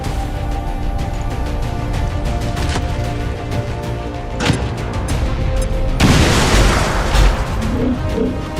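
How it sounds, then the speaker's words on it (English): Grenade blast in the PC strategy game XCOM 2 War of the Chosen, a loud broadband boom partway through over dense, continuous game sound and music. "Grenade out!"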